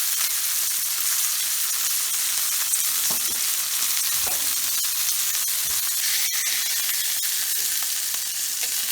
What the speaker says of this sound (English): I'm going to sear the fat caps on these for a moment or two